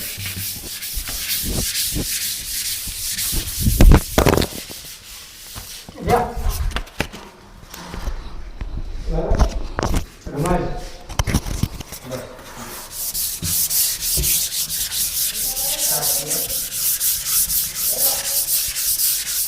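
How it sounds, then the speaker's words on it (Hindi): Sandpaper rubbed across a wall by a house painter in India, steady scratchy strokes running nearly throughout, with someone talking over it partway through. "इसी तरीके से पूरी दीवार को रेगमाल लगा लेते हैं"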